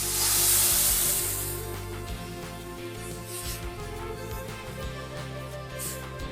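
Boiled dal poured into a hot tadka for dal tadka, giving a loud burst of sizzle at the start that settles into a steady, softer frying hiss with a low hum underneath.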